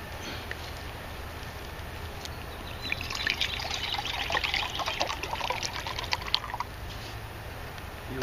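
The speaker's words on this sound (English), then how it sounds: "we'll get some water in our canteen cup." Water poured from a canteen into a metal canteen cup outdoors at a woodland camp, a close trickling stream that swells in the middle and tapers off, with faint clinks.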